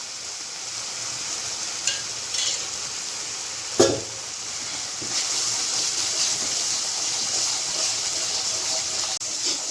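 Ginger masala paste frying in a generous amount of oil, a steady bubbling sizzle throughout with a couple of brief clatters from a utensil partway through, no voices.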